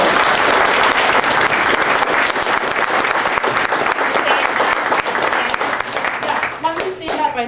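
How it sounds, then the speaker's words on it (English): Applause from a union meeting audience for Kraft workers' class representatives: loud, sustained dense clapping from a full room, tapering near the end as a voice starts to speak. "I'd like you to give a round of applause to Jeff Sporley, Jason Knudsen, Nick Lee,"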